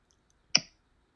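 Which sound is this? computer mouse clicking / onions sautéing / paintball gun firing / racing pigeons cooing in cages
computer mouse clicking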